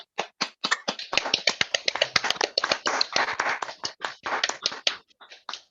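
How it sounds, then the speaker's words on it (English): Applause for a poet at an LGBT open mic fundraiser for Stonewall Housing: a small audience claps in sharp, distinct, fairly rapid claps, close and alone, thinning toward the end. "Can we get another massive round of applause for Christy Kirby"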